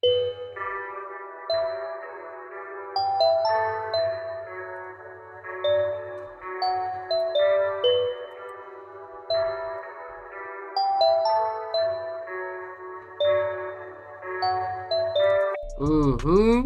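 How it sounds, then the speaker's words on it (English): A bright bell melody plays in a repeating pattern of chiming notes over a low pulsing hip-hop beat made in FL Studio, ending in a short swirling effect. "First thing I'm gonna use is some bells."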